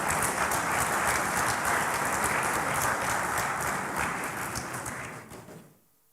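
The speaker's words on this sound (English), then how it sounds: "I now ask you to show your acclamation with a round of applause for both candidates." Voting delegates at the 33rd AFC Congress applaud the elected candidates, a loud dense round of clapping that holds steady and then fades out near the end.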